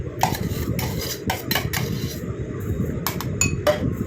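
A mixture is stirred in a pan off the heat, with close, repeated metallic clinks and scrapes of utensil against pan over a dull rumbling bed.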